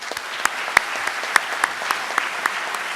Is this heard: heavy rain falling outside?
no